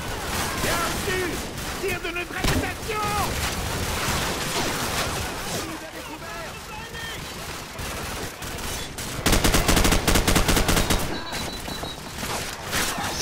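Suppressing fire in Call of Duty 4: Modern Warfare comes as dense, rapid bursts of gunfire with layered shots, mixed with game noise and a voice talking over it.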